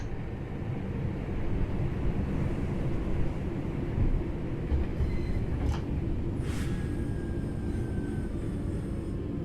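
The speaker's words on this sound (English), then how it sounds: "Bring this train to a complete stop by moving the power." A heavy rolling rumble comes from a train slowing toward a stop in the Train Sim World 6 video game, with faint higher squeals and tones above the steady low roar.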